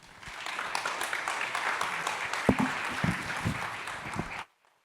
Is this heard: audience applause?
yes